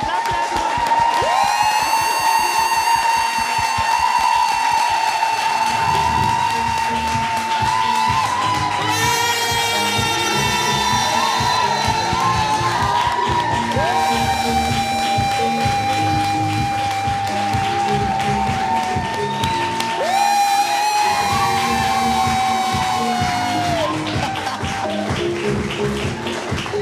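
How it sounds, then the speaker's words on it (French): A church congregation cheers to welcome a pastor, with loud, sustained clapping, high whoops and shouts rising throughout, close and crowded. "aidez-moi à accueillir le pasteur Rebecca sous vos applaudissements"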